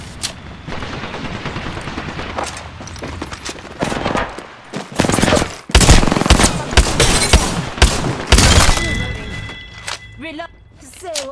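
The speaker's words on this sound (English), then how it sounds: "They spotted me. I'm taking shots." Gunfire in the battle royale game Apex Legends, with an R-301 rifle among the weapons, comes as rapid automatic bursts and single loud shots, some near and some farther off, while a player talks over the fight.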